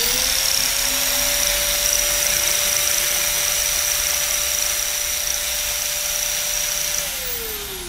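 A Huspanda HMD 1004 800W hand grinder switches on and spins up to a loud, steady high-pitched whine, holds it for several seconds, then winds down as it is switched off.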